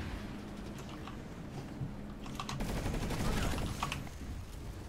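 Rapid bursts of Eclipse carbine fire in the infantry shooter PlanetSide 2, a dense crackle of shots that builds louder in the second half over a steady battlefield din.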